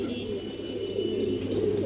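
Red chulli pigeons of an old line, kept at home, giving soft low cooing close by over a steady background hum.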